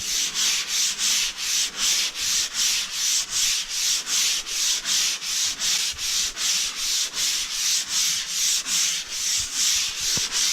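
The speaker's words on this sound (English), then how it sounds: "then I go after the things in the middle and just lightly sand it, just until it rubs out" Rhythmic back-and-forth hand sanding on a smooth repaired drywall patch in a flooded basement, about two strokes per second, close and even with a soft rasping texture and no talk.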